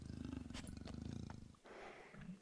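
Snow leopards in the game Planet Zoo give a low, rumbling purr-like growl, quiet and close, pulsing rhythmically before fading into softer breathy noise.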